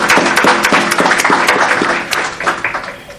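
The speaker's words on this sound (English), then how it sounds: "Shall we give them a round of applause?" Crowd at a Comrades Marathon send-off event applauding runners and cadets, close, loud clapping with distinct individual claps in an irregular rhythm, tapering slightly near the end.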